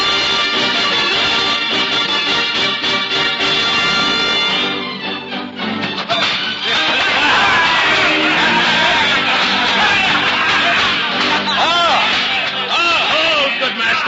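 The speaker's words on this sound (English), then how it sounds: "the merry men of Sherwood withal, cheering on their mighty leaders" A crowd of merry men roars and bellows, cheering a cudgel fight between Robin Hood and Little John in Sherwood as an old radio drama effect: a dense, continuous babble of shouting voices that stays loud for the whole stretch.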